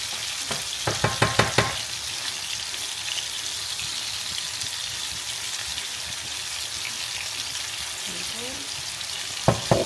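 Onions and meat fry in a pot with a loud, constant sizzle, broken by several quick scraping stirs at the start and again at the end.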